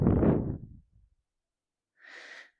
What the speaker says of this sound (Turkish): Nefes verirken roll down.